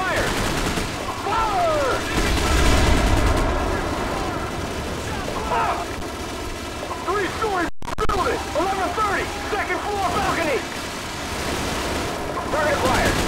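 Gunfire crackles in Call of Duty Modern Warfare, dense rattling bursts of automatic fire amid battlefield noise, with soldiers shouting over it.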